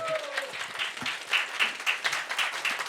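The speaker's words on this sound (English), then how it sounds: "Round of applause." An audience at a fan convention stage game show applauds steadily, a dense, fairly close wash of many hands clapping throughout, with no voices standing out.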